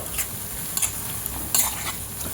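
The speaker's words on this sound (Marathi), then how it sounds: "छान परतवून घ्यायचं आहे" Onion sautés in hot oil for tomato chutney, giving a close, continuous sizzle with quick metallic spatula scrapes and taps against the pan at irregular moments; no talking.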